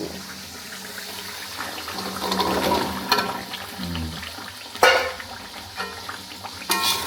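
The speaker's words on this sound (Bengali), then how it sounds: "মশলাটা সুন্দর কষানো হয়ে গেছে এখন আমি দিয়ে দিব এই যে আলুগুলো" Potatoes tipped into a pan of well-cooked spice paste, giving a steady close sizzle with stirring scrapes and a few louder clatters as they go in.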